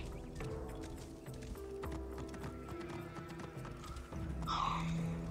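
Rhythmic clip-clop of horse hooves in the video game Assassin's Creed: Origins runs throughout, joined near the end by a brief whinny, all fairly quiet.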